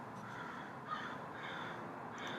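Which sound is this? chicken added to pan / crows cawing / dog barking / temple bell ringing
crows cawing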